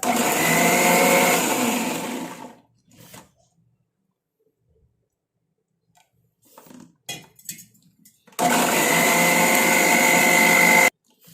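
A mixer grinder roars loudly while grinding a hair dye mixture with rice water, running in two bursts separated by a quiet pause filled with faint clinks and handling sounds.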